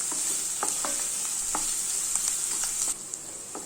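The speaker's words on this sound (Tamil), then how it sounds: "வெங்காயத்தை நல்லா வதக்கிக்கோங்க" Chopped onions sautéing in a pan for a cauliflower pepper fry: a steady close sizzle, broken by a few light stirring scrapes. The sizzle softens near the end. No voices.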